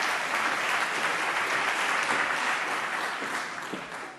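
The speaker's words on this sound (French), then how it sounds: "Applaudissements, elle arrive sur scène, s'il vous plaît." An audience at an innovation conference applauds steadily as a speaker walks onto the stage, a dense round of clapping that tapers off slightly at the end.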